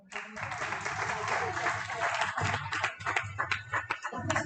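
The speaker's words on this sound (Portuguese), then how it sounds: "Mas eu queria que você aplaudisse o Senhor." A church congregation applauding during a Sunday worship service, a sustained wash of clapping that swells and then thins into scattered, uneven claps, with some voices mixed in.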